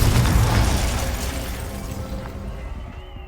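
A Confringo explosion spell in the video game Hogwarts Legacy gives a single loud, booming blast that fades out over about three seconds.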